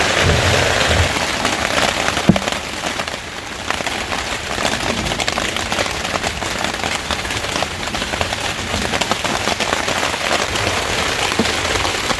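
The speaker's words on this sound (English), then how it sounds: "Holy moly, a lot of rain." Heavy rain pours steadily onto a hard surface, a dense continuous patter with occasional louder drops, loud and close throughout.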